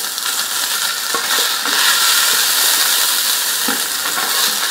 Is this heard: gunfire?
no